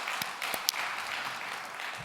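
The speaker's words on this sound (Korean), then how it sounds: "우리 찬양팀에도 격려로 박수 한번 하고요." A church congregation at a special Friday worship service claps in encouragement for the worship team, a soft, distant patter of scattered applause with a few sharper individual claps.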